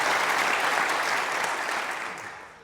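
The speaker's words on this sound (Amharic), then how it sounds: "ለመለሰው ደግሞ አንድ ጊዜ አጨብጭቡለት።" A seminar audience applauds someone who answered a question, with full, close clapping from a roomful of people that holds steady and then tapers off near the end, with no talking.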